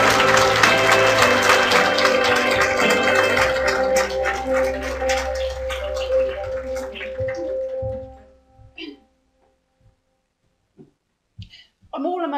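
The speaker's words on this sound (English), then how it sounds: "Big round of applause." Loud, dense applause from a seminar audience greeting a speaker, sustained for several seconds and then stopping abruptly, leaving near silence with a few faint stray sounds and a brief voice.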